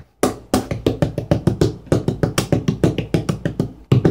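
A bodhrán tipper patters rapidly on the drum skin, a steady stream of close, crisp strokes in an even rolling rhythm with short gaps, loud and alone.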